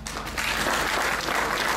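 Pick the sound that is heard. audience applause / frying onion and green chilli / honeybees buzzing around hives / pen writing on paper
audience applause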